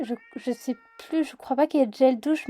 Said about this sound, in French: Je suis désolée pour le chat qui va miauler.